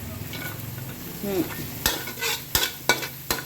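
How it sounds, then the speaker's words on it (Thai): Garlic stir-frying with shrimp in a pan, a close, steady sizzle broken by several sharp scrapes and clinks of a spatula against the metal, with no voices. "ใส่กระเทียมไปเลยผัดกับ ผัดกับปลาน้ำกุ้งนี่แหละ"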